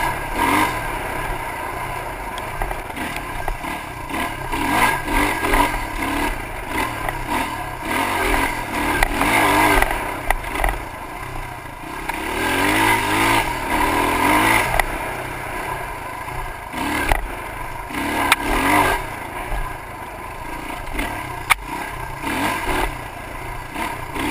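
A dirt bike rides a forest single track trail at the Grand Traverse ORV area in Michigan, its engine droning and revving up and down in waves. Clattering and scraping run through, with no talking.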